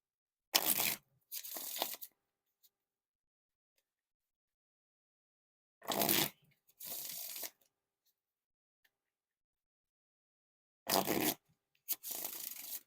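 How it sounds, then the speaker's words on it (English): Rouge Smoke and Mirrors playing cards are riffle shuffled three times, each shuffle a quick burst of ripping card flutter followed by a softer bridge cascade, with quiet pauses between, close and clear. "Now time for the Riffle Shuffle or Bridge Shuffle."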